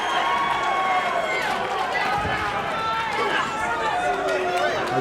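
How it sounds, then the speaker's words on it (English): A wrestling crowd roars loudly and continuously, a dense wall of cheering and shouting voices that stays intense without letup, filling the arena from start to finish. "The crowd is going insane."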